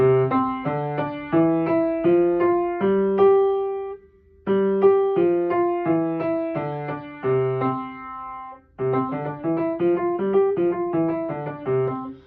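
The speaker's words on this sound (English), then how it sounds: "the 5-finger scale, but going boom ba boom ba boom ba boom ba with both of your hands" Piano notes of a five-finger scale played with hands alternating in a steady pattern, low and high notes trading back and forth up and down, clear and close.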